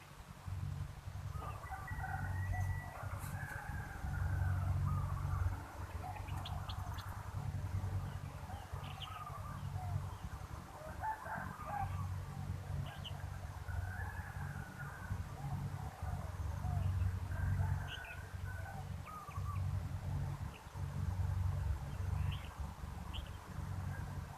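Large doves (nok khao yai) coo in repeated phrases at an outdoor dove-calling competition, fairly distant over a steady low background hum and crowd noise.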